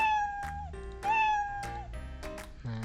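A cat meows several times in quick succession, clear and close, each cry short with a slightly rising or falling pitch.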